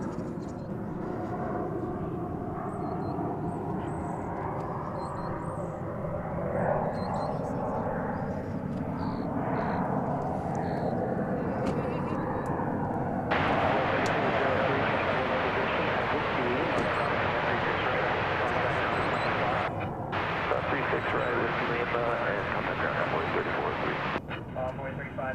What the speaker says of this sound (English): American Flight 448 to Los Angeles, an Airbus A321.